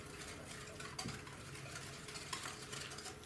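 Sugar being mixed in a bowl for pizzelle batter, a quiet, steady scraping and stirring with faint clinks of the utensil against the bowl, close and soft with no talking.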